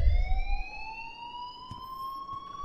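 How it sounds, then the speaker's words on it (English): A fire alarm wails steadily in the video game Life Is Strange, one sustained tone slowly rising in pitch, fairly loud and alone with a few soft knocks underneath. "please turn off that alarm since that's your"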